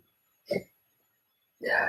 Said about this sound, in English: Man, I got the hiccups.